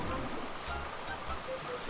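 Water splashing and churning in the Nintendo video game Super Mario Galaxy, a steady wash of rushing, surf-like noise that stays loud and continuous throughout with no talking.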